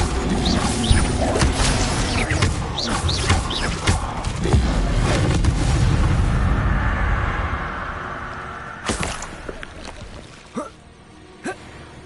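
Hogwarts Legacy's Incendio fire spell being cast: a few sharp magical bursts and thumps give way to a rising, rushing flame whoosh, followed by fainter scattered impacts as the action quiets.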